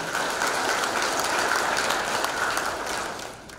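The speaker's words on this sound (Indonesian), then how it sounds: "Berikan tepuk tangan yang meriah" A graduation audience at STEBI Global Mulia Cikarang applauds, a steady, dense wash of clapping that stays loud and even before fading slightly at the end.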